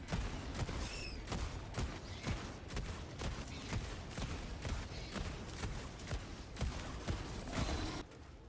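An autocannon exosuit in Helldivers 2 fires a steady barrage of loud, rapid heavy cannon rounds at an enemy, dense booming bursts running almost continuously, with no speech.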